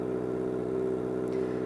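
Kawasaki ZX-25R inline-four motorcycle with an aftermarket exhaust, captured by a GoPro as a steady, buzzy, high-pitched engine drone at idle or light revs, continuous and close.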